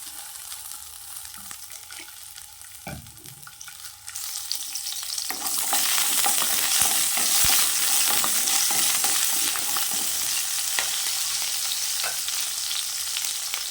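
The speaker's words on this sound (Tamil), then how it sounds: "கடாய் வச்சுருக்கேன், சின்ன வெங்காயம் சேர்த்துக்கோங்க, எண்ணெய் சேர்த்துக்கலாம்" Shallots frying in oil in a kadai for a fish curry: a quieter crackle at first, then a louder, dense, steady sizzle from about five seconds on, with occasional stirring scrapes, close and with no voices.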